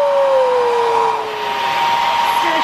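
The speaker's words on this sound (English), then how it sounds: "Still a shit hair dryer." A hair dryer plugged into a Paris hotel bathroom runs steadily with a constant loud whoosh and a faint falling whine, alone without talk.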